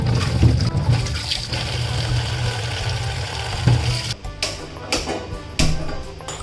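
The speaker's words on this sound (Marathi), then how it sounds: "स्वच्छ पाण्याने धुवून घ्यायची." Amla, Indian gooseberries, are washed in clean water in a home kitchen, with running water trickling and splashing steadily, then a few sharper sloshes and clinks toward the end.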